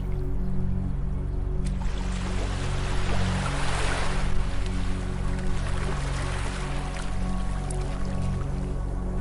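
Soothing ocean waves wash steadily onto a beach, a continuous broadband surge with a gentle swell near the middle, no voices.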